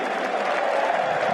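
A cricket crowd of travelling English fans at a New Zealand v England match roars and applauds in a brief, dense, sustained burst after a big shot by Craig Overton.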